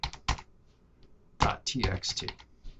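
Bursts of clacking keystrokes on a computer keyboard, close and crisp, in uneven clusters with short pauses between them, with a voice heard faintly.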